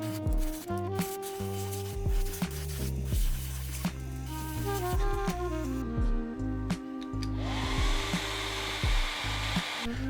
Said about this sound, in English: I'm going to hair dry it and we'll do another layer